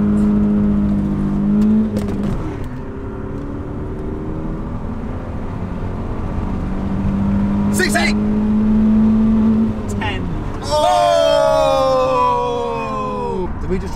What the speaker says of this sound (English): Quite exciting doing the old 0-60 runs.